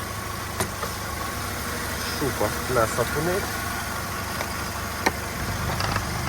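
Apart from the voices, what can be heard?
1.6 petrol car engine running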